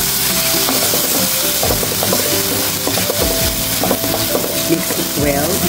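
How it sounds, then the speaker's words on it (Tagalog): Grated corn being stirred in a pan for ginisang mais, a spoon scraping and clinking against the metal in repeated strokes over a steady sizzle, with background music playing throughout. "So, haluin lang natin."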